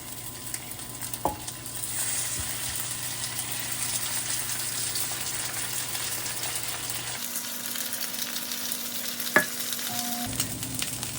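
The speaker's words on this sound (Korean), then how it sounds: "달궈진 프라이팬에 봄동을 넣습니다." Spring cabbage (bomdong) fries in a hot oiled frying pan, giving a steady, close sizzle with stirring noise throughout and a couple of sharp clicks; no one speaks.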